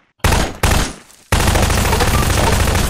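Gunfire in the Prop Hunt video game: loud, dense bursts of rapid shots, a short volley, a brief gap, then a continuous sustained stream of fire.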